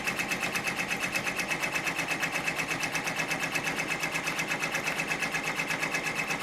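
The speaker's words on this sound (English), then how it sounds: "now it's running a tack down stitch to tack the batting down" Sewing machine running a steady tack-down stitch through quilt batting for an Easter mug rug, a fast, even, rhythmic whir that continues without pause, close and fairly loud with no speech.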